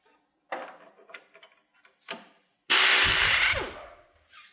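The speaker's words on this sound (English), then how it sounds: "We're going to remove the 2 lower strut mounting bolts" A ratchet with a 15mm socket works the lower strut mounting bolts on a 2015-2017 GMC Yukon XL Denali: scattered clicks and taps, then a loud, close burst of rapid ratcheting lasting about a second before tapering off.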